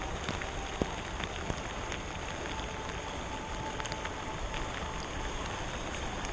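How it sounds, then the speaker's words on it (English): Rain falls steadily on a small South Florida pond during a fishing trip, a dense, even hiss of drops with occasional sharper taps, fairly quiet and with no voices. "We didn't let this rain stop us, we're fishing in the rain right now."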